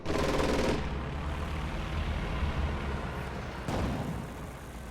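Strafing gunfire from a real-time strategy game, with air support raking ground forces: a dense, loud, continuous roar of rapid fire and rumbling impacts, swelling with a fresh burst near the end.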